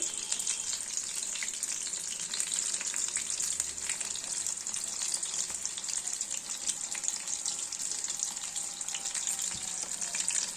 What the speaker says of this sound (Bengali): দুটো ভাজা হতে থাক।